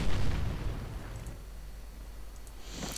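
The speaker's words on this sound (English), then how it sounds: "Artillery once more fails to hit." A muffled artillery shell blast in the World War II strategy game Company of Heroes, one low boom at the start that fades into a soft rumble, with a faint click near the end.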